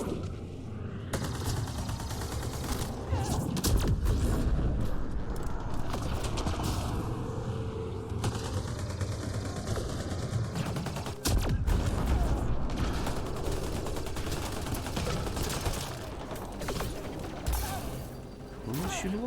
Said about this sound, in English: Who's shooting us right now?